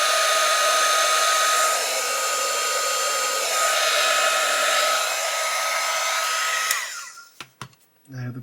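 A heat gun blows steadily and close while shrinking heat-shrink tubing on the wires of a 1/8-scale Pocher Porsche 917 model car, then cuts off near the end with a few small clicks and handling noises.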